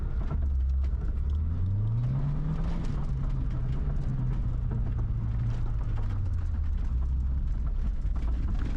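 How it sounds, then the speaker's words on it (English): An old, abandoned 67 car on a test drive: a steady, close engine drone throughout, with the pitch rising as it accelerates and then settling back, over road and wind noise. "starting the test drive of the 67 car"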